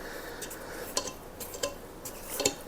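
Scraping inside a stand mixer bowl of chocolate cake batter, a few soft scrapes and light clinks of a spatula against the bowl, quiet and close over low background noise.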